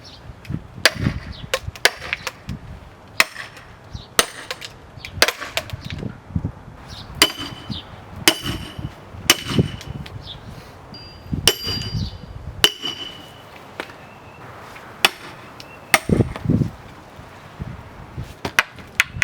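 Wood being split from a log to carve a bowl, with a series of sharp chopping strikes landing every second or so, some ringing metallic clinks between them, and quieter handling sounds in the gaps.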